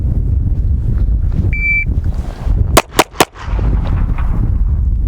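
Three quick, sharp pistol shots from a Smith & Wesson M&P 2.0 during a pistol qualification drill at a range, loud and evenly spaced over wind noise, with a brief beep before them.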